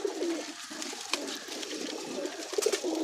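Sialkoti pigeon cooing nearby, a few soft throaty coos spaced through a quiet background with faint rustling.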